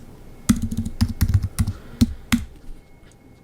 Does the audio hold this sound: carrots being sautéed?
no